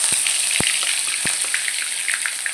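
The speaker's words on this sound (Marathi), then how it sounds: "तेल तापायला ठेवलं मी त्याच्यामध्ये टाकून घेते आता मसाला मसाला परतून घ्यायचा आपल्याला" Masala with plenty of coconut hitting hot oil for rajma curry, giving a loud, close, crackling sizzle with a few sharp pops early on, steady for the short stretch with no talk.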